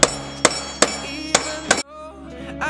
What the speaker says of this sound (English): now I'm going to use a dead blow hammer, which is a soft rubber hammer filled with sand